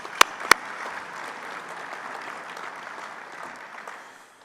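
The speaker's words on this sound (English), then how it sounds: "Let's give Sean a round of applause" A conference audience at a general session of a fuel ethanol workshop applauds, a steady wash of clapping that fades slowly near the end, opened by two sharp, loud claps close by.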